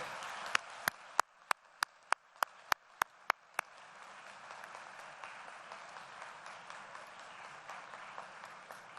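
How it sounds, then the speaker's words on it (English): Sharp, spaced handclaps ring out at first, then blend into steady, continuous applause from a university commencement crowd that carries on to the end. "I want you to applaud for your family, friends, guardians, and everybody here."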